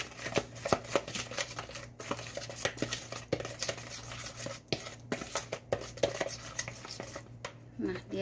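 A spoon scrapes and clinks around a bowl of chicken seasoning as it is stirred, with continuous quiet rhythmic scraping and tapping throughout and no voices.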